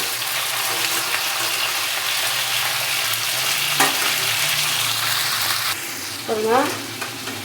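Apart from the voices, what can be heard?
radish and onion frying in oil in a pan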